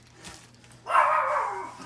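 A household dog indoors near a kitchen where almond nut rolls are being baked gives one drawn-out, fairly loud bark-whine lasting about a second, after a quiet stretch.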